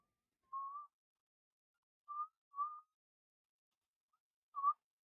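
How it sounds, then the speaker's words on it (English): Four short whistled notes from one person testing a microphone, soft and isolated, with long silent gaps between them. "I was only whistling to test the mic."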